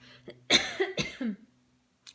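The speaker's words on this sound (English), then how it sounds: "this is where I'm going to cough" Several sharp, close coughs in a quick burst of three or four, followed by silence and a faint short sound at the end.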